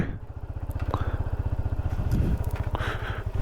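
A motorcycle engine idles close by at a mountain viewpoint in North Sikkim, its steady rapid low thumping pulse continuing throughout with some faint clatter on top.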